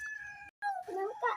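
A cat meows several times in quick succession, close and fairly loud, with a person talking nearby between and around the calls.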